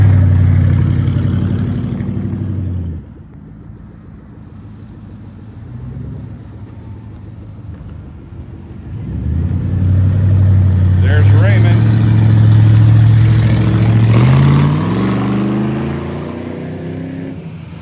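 Cars, including a General Lee replica, revving before a ramp jump: a loud engine roar drops to a low idle, then climbs again through rising revs, with faint voices nearby.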